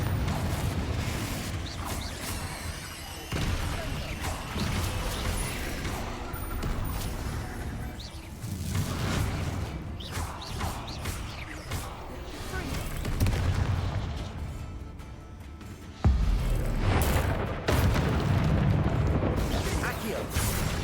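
Magical blasting spells, Bombarda and Confringo, detonating during combat in the Hogwarts Legacy video game, a dense run of booming explosions and crashes with sudden loud onsets, continuous and close.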